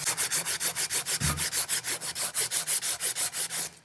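Gun metal hand-polished with 120 grit abrasive, steady back-and-forth rasping strokes, about six per second, close and even, with no talk over it.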